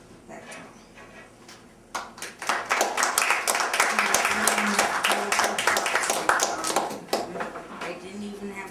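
An audience applauds at an open mic night: a burst of many hands clapping that starts abruptly, holds steady and dense for several seconds, then tapers off to scattered claps.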